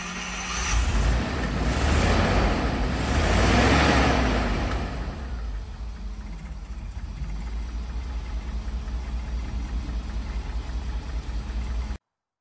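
A 1982 Rolls Royce Silver Spirit engine runs steadily after a cold start, a continuous low idle that is louder and rougher for the first few seconds, then settles into an even, quieter hum until it cuts off.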